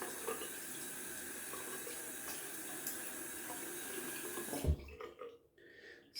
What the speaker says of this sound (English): Gonna add some cold water to the face.